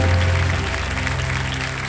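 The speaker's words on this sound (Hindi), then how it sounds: "तालियां बज जाए जोरदार" Studio audience applause on the Kaun Banega Crorepati Season 14 game show set: dense, steady clapping that stays loud for the whole two seconds, with a low tonal hum beneath it.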